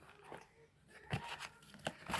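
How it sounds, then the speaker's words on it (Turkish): A plastic sweets package holding white coconut-filled candies is torn open by hand, giving several short crackling rips and crinkles close to the mic, with a brief gap partway through before the last tears. "Açma biraz zor. Evet yırtılıyor."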